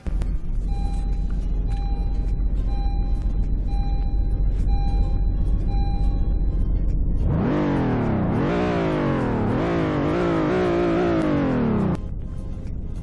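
Car engine in Roblox Greenville, LX trim, starting up after a steady idle hum with a faint repeating tone, then revving loudly in several rising and falling surges before cutting off near the end.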